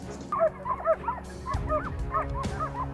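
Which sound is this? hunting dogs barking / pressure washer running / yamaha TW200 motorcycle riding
hunting dogs barking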